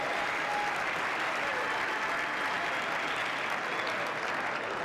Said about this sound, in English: I don't know why we're clapping